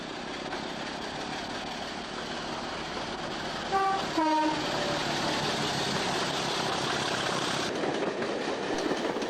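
A British Rail Class 27 diesel locomotive hauls a passenger service away from Edinburgh, a steady engine and rail rumble carrying throughout, with a brief two-tone horn blast near the middle.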